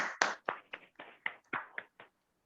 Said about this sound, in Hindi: एक बार दो ताली बजाएं जोरदार